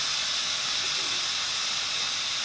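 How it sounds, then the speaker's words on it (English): Sauce sizzling as it hits cooking chicken in a hot pan, a steady close hiss of steam lasting throughout without breaks or voices. "pour a little bit of the sauce over it"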